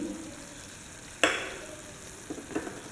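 Curry leaves and a green chilli dropped into hot oil in a pan with tomato for broken wheat biryani, a sudden crackling sizzle bursting up then fading, with a few smaller spits afterward, no talk.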